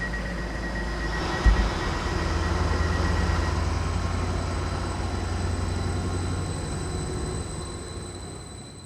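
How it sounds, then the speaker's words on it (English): A train departs Soham station, its engine and wheels rumbling steadily as it pulls away, a broad sustained roar that swells after a brief thump early on and slowly fades toward the end. "Shall we see the train out?"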